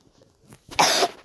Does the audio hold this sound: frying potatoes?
no